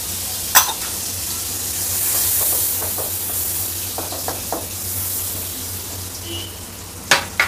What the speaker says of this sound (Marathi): ह्याच्यामध्ये आपण थोडंसं पहिल्यांदा 1 चमचा तेल घालूया, बटर घालायचं, थोडंसं बटर घालूया याच्यामध्ये।